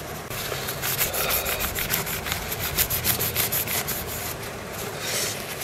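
A wire brush scrubs environmental dirt off the circuit board of an Acorn Archimedes A3000 computer, making close, continuous scratchy rasping in quick repeated strokes with no talking.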